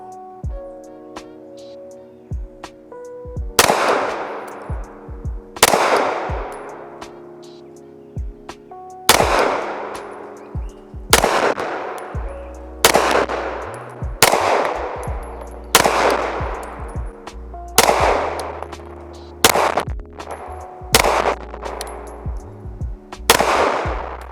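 A Sar USA K12 pistol fires about a dozen loud, sharp shots at a slow, uneven pace, each crack trailing off in a brief ringing decay before the next.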